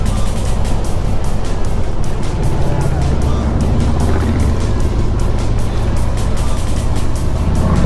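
A group of motorcycles passes by on a winding mountain road, a loud continuous engine roar up close, heard under steady wind rush from a moving vehicle.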